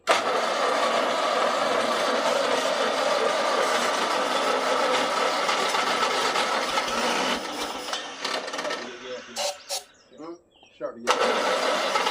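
An old Oliver 60 tractor engine cranking and catching with added throttle, a loud, rough mechanical roar that runs steadily before breaking into uneven sputters and bursts, with someone talking over it.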